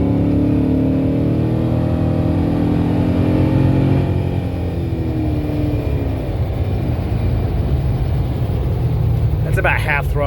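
A Jeep Wrangler JK fitted with an LT1 engine accelerates hard at half throttle to pass a slower vehicle, its loud, close engine note rising steadily through the gears, with wind and road rumble underneath.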